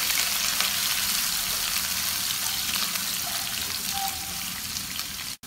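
Ingredients stir-frying in a hot pan, a close, continuous crackling sizzle with faint scraping of the utensil, steady throughout before cutting off abruptly.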